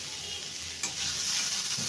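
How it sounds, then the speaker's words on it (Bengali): Cauliflower stems fried with spices hiss in a steady, close sizzle in a pan, with a brief scrape of stirring partway through. "কপির ডাঁট একটু মশলা দিয়ে একটু ভাজা ভাজা করলাম"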